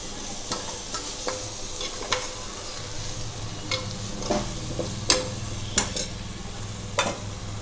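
Chole masala ingredients stirred in a hot pan, a steady low sizzle under scattered scraping and clinking strokes of a spoon against the metal, close and moderately loud, with no talking.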